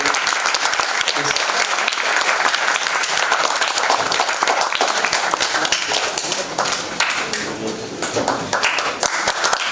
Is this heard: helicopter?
no